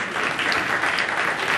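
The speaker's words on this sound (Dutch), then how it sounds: "dat applaus is dan voor de programmacommissie uiteraard" Brief audience applause at a programme meeting, a short, even patter of many hands clapping with no pause.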